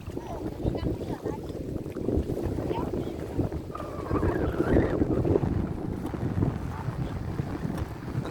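Wind blowing at a sandy beach, a steady rough roar buffeting the microphone throughout, close and continuous. A voice is faintly heard in it.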